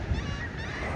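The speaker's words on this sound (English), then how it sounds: "There's like a million birds of several different species just chilling right here." Shorebirds on a beach call in a brief, honking burst from a large mixed flock, close and fairly loud, with no talk.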